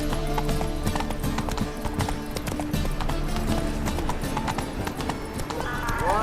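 Roach the horse gallops in The Witcher 3, hooves clip-clopping in a steady rapid rhythm under game music, with a brief whinny near the end and speech-like sounds mixed in.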